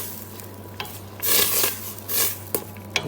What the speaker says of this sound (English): Give it a little stir up.